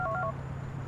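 A mobile phone in GTA IV dials with a quick burst of several short touch-tone beeps, after which a low steady hum continues alone.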